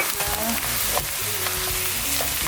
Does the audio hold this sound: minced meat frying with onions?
yes